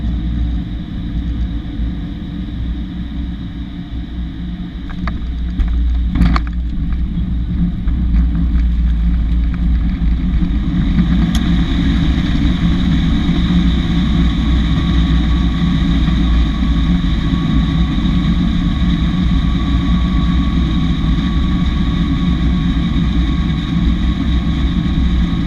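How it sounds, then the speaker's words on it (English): A Regional Express airliner lands at Brisbane on a flight from Sydney, heard from the cabin as a loud, steady engine roar and rushing air, rising at touchdown and then holding as a constant drone. "Now please enjoy this unedited landing footage."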